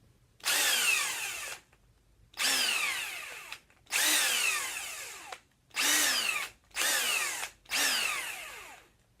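Ingersoll Rand W7150 impact wrench with a faulty electric brake runs in six loud bursts of whirring, each winding down with a falling pitch after release, separated by brief pauses.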